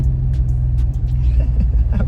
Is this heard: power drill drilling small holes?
no